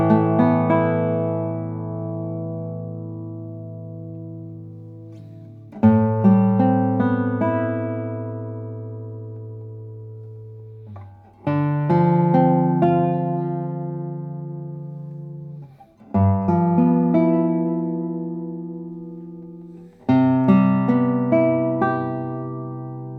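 A handmade classical guitar with a French-polished top is played alone, with five slow, widely spaced strummed chords, each ringing out with long sustain and decaying before the next.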